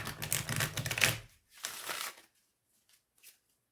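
Gilded-edge tarot cards riffle shuffled by hand: two crisp, fluttering bursts of cards, each lasting about a second, close and fairly loud, followed by a couple of soft taps as the deck settles.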